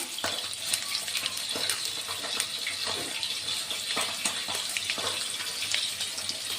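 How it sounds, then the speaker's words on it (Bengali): Nigella seeds and dried chillies tempering in hot mustard oil in a wok crackle and sputter with sharp pops over a steady hiss, mixed with stirring sounds. "কড়াইতে সর্ষের তেল দিয়েছি, গরম হয়ে গেছে। এবার একটু কালো জিরে ফোড়ন, কিছুটা শুকনো লঙ্কা"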